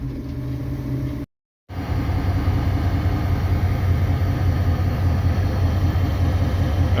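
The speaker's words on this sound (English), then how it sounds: "Train to the load just came in." A freight train arriving at a hopper car loading site on a cold morning, a steady loud low rumble and rolling roar close by, broken by a brief dropout, then continuing unchanged.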